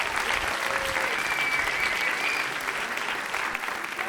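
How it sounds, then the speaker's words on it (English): A large audience at a Classic Tetris final claps continuously in a dense, steady wave of applause, with a few faint whistles mixed in. "another round of applause for an incredible final."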